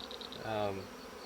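A honey bee swarm gives a faint, steady insect buzz with a brief louder droning hum as a bee passes close in the middle, set in quiet outdoor background.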